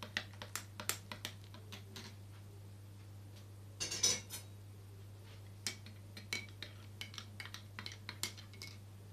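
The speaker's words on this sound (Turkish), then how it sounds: "suyumuzu ekliyoruz ve iyice karıştırıyoruz" A spoon clinks in a glass or cup while water is stirred into a homemade fat-burning slimming tea, quiet scattered taps with a brief busier burst of clinking, no talking.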